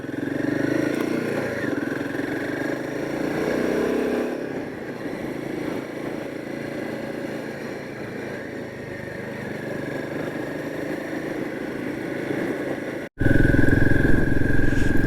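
A Royal Enfield Himalayan motorcycle engine runs steadily in a loud, continuous drone throughout, with a brief cut near the end before it resumes slightly louder.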